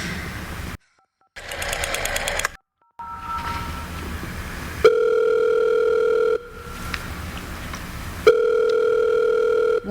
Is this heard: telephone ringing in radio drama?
yes